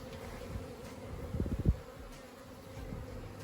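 Honey bees buzzing inside a hive as a newly emerged bee chews its way out of its cell, a steady close drone with a brief louder burst of wing buzzing partway through.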